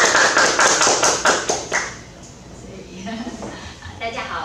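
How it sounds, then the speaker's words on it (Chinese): A studio audience claps to welcome a guest at a press-style talk show: a short burst of fast, rhythmic hand claps that fades after about two seconds into quieter background sound with some talking. "我们掌声欢迎"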